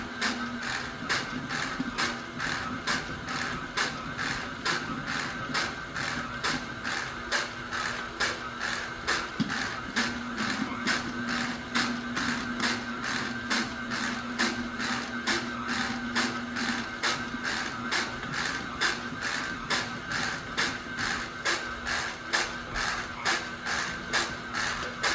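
An electric mixer blends flour into a three-ingredient shortbread cookie dough, giving a steady, rhythmic mechanical whir with a regular beat that runs unbroken and alone for the whole stretch.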